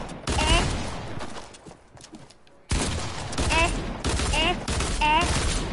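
Shotgun blasts ring out in Fortnite gameplay, sharp bursts of gunfire that drop to a brief lull midway and then return, while voices talk over the action.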